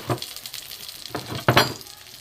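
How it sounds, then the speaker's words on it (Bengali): Fried eggplant pieces for a Bengali sukto are tipped out of a hot pan, several bursts of sizzling and scraping with light clinks against the cookware, close and moderately loud, without speech. "বেগুনগুলো ঢেলে নিলাম"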